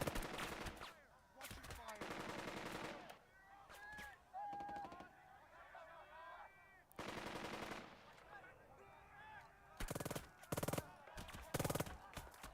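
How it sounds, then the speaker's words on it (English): Bursts of machine-gun fire and rifle shots in the wartime strategy game Burden of Command, coming in repeated loud rattling volleys separated by short quieter gaps, with brief voiced shouts between them. "They're certainly content to blast these guys into nothingness with waves and waves of gunfire."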